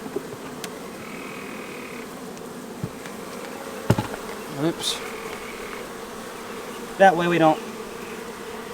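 Honeybees buzz around an opened hive during a spring inspection, a steady close hum with a few louder passes, while a beekeeper speaks briefly and tools knock against wood.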